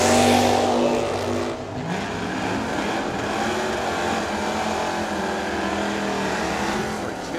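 Drag race cars, a 1965 Chevelle and a 1970 GTO, roar down the strip at a motorsports park, a loud sustained engine blast near the track that eases slightly then holds steady throughout.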